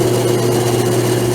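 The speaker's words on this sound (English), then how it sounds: "Let me get on bandsaw and I'll show you what I do there." A bandsaw runs with a steady motor hum and a constant tone, cutting wood for a deer grunt tonal board, close and loud.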